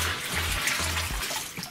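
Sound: water poured into a folding PVC bucket

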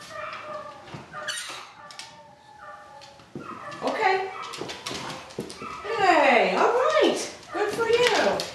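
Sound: dogs barking and whimpering upstairs

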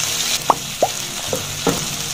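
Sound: bell peppers and tomatoes frying in a pan

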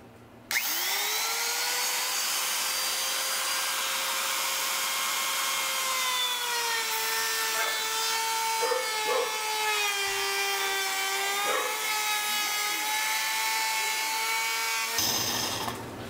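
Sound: trim router cutting around the edge of a wooden lid

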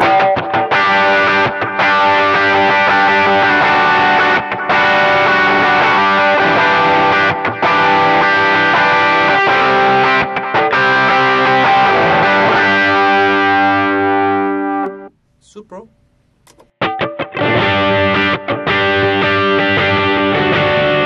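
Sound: distorted guitar power chords

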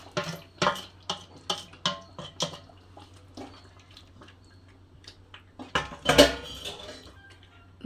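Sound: stirring paneer curry in a pan

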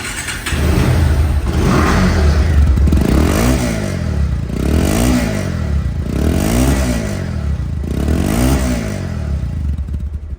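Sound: Bajaj Pulsar motorcycle engine revving

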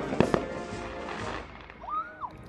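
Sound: fireworks booming on the Fourth of July

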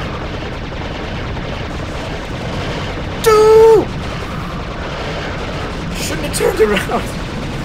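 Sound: gunshots in the video game Serious Sam HD

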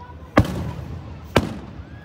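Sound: fireworks exploding on the 4th of July

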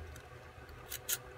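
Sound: cutting a small model airplane piece in half

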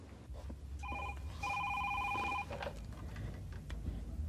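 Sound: telephone ringing

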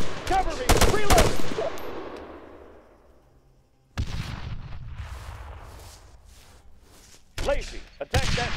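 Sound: gunfire in ArmA 3 video game infantry combat

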